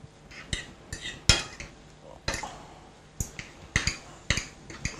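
Noodles tossed and clattering in a pan with prawns, garlic and onions, making sharp metallic scrapes and knocks at an uneven pace, close and fairly loud, with no one talking.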